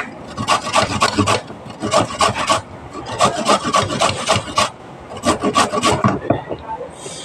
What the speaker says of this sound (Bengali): তার জন্য গাজরটাকে ঘষে নিতে হবে। তারপরে গাজরটা ঘষে নেবো।